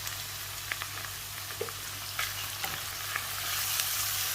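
Spices with red chilli powder fry in oil for a radish curry, giving a steady close sizzle with light scrapes and clicks as they are stirred and mixed.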